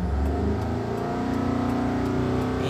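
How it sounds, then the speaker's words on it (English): A 2013 Mitsubishi Pajero GLS with a 3.2 diesel engine revs steadily under acceleration, a close, continuous mechanical drone whose pitch climbs gradually, heard alone with no talking. "Ngayon, tapakan ko yung accelerator o yung gas ng sasakyan nito."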